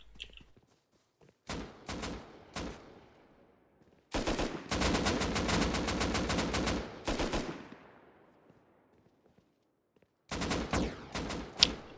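Gunfire in the video game Rust during an online base raid: several short automatic bursts, then a long sustained stretch of rapid shots, then more bursts, loud and sharp with no speech over them.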